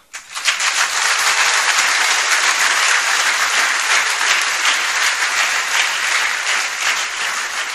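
A large seminar audience at a network marketing event breaks into sustained, dense applause, many hands clapping at once, loud and steady throughout with no pause.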